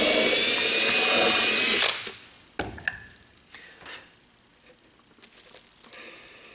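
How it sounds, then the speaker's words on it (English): A power drill whines loudly for about two seconds, then stops, followed by scattered clicks, taps and light handling noises. "So we'll go ahead and drill through there and install that."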